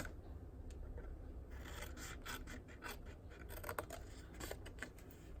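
Paper snips cutting the corners off a sheet of scored cardstock, a series of quiet crisp snips and rasps in an irregular rhythm, close and faint.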